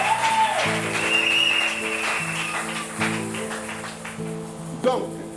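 A church congregation applauds loudly, the clapping mixed with sustained keyboard chords that shift every second or so.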